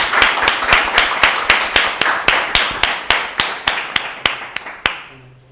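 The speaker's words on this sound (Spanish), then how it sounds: "Un aplauso, por favor, para estos dos especialistas" Steady clapping from a small group, crisp hand claps in a regular rhythm that thins out and stops near the end.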